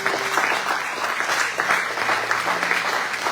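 A church congregation applauding to acclaim the Lord, a sustained dense round of clapping from many hands that stays fairly loud and steady throughout, with a faint crowd murmur underneath.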